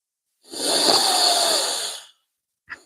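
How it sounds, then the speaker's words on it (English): One long, close breath drawn in slowly for about a second and a half, loud and airy, with a brief faint sound just after. "Go ahead. Breathe it in."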